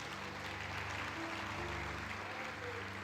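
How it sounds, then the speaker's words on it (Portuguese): A church congregation applauding during a sermon, dense continuous clapping from many hands filling the room, with faint voices mixed underneath. "Aplaude Ele, aplaude o povo do Senhor."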